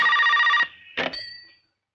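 An old-fashioned telephone bell rings in a rapid trilling burst, then cuts off, followed by a short clatter like the receiver being lifted in a quiet room.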